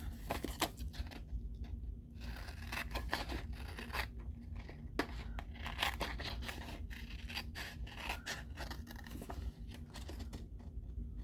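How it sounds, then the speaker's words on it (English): A paper envelope is trimmed with scissors, giving a run of close, dry cutting and scraping snips with small crisp clicks over a low steady hum, no talking. "So trim my envelope."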